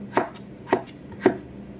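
Fresh potatoes are sliced with a knife against a board in three crisp, evenly spaced chops about half a second apart, close and clear with nothing else heard.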